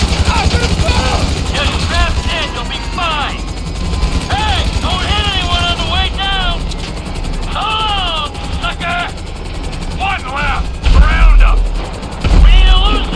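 Choppers roar through a Grand Theft Auto chase as sporadic automatic gunfire and heavy impacts break in, with game characters talking almost continuously over the steady rotor noise.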